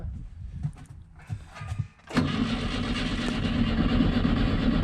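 An old car abandoned for thirty years is cranked: faint rustling and knocks give way to an abrupt, steady, loud mechanical roar of the engine turning over and churning.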